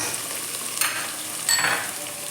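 Spices with curry leaves, coriander, green chili, salt and turmeric frying in a pan for tomato rice; a soft, close sizzle with a couple of brief stirring scrapes.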